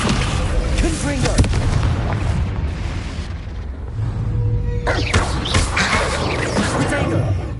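A Confringo blasting spell exploding in Hogwarts Legacy, with loud booming, crackling blasts over a busy game soundscape, a spoken spell incantation and other voices heard alongside.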